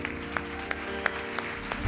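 Congregation in a church clapping in a steady rhythmic beat, roughly three claps per second, modest in volume over a sustained background of music or organ-like tone.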